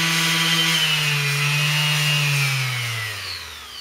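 Variable-speed power sander working a wood limb with 150-grit sandpaper gives a loud, steady high-pitched whine close by, with its pitch sliding down slightly toward the end.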